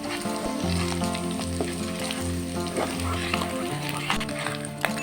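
Onion paste frying in hot oil with nigella seeds, a slit green chilli and asafoetida, sizzling steadily and loudly close by, with a low tonal hum running underneath the whole time.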